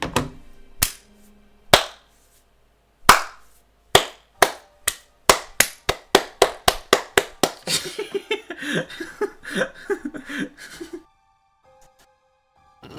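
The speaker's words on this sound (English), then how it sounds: "Slow clap, Rintaro." A slow clap by one person: sharp, loud, isolated hand claps spaced widely at first, then speeding up into a quicker run that blurs into busier clapping before falling silent.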